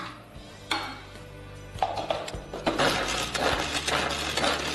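A manual hand chopper works through an onion with no electricity involved, giving a few sharp clacks followed by a run of quick rattling, clattering chops, close and fairly loud.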